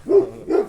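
Two deep, loud barks from a big dog weighing about 80 kilos, close by, with a short pause between them.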